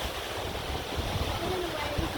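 Surf washing onto a beach, a steady broadband wash with low rumble that holds evenly through the short moment, with a faint voice underneath.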